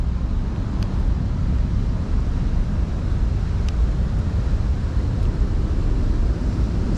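An underground parking exhaust fan gives a steady, loud, low rumbling roar that holds unchanged, with faint ticks now and then and no voices.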